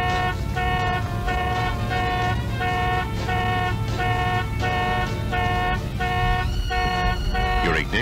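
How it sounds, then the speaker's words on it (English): A 1973 Chrysler Imperial's factory anti-theft alarm sounds the car horn in steady, evenly spaced loud honks, a pulsing blare that repeats without pause and with no voices. "New options for 1973 include a vehicle alarm system with electric door locks."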